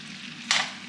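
Apple slices sizzle in melted butter in a large skillet over medium heat, a steady close frying hiss that swells suddenly into a brighter burst about halfway through, with no talking.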